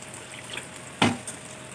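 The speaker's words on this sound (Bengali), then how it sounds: "এটা একটু পানি দিয়ে দিই।" Water poured into a pan of vegetables cooking with salt, turmeric, chili, cumin and coriander powder, a short splashing pour that bursts in suddenly, with a smaller splash just after, over quiet kitchen background.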